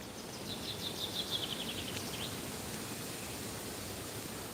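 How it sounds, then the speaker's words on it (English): A bird trills a quick series of chirps against strong, steady wind noise, fading after a couple of seconds. "the sounds of the birds are really healing and comforting"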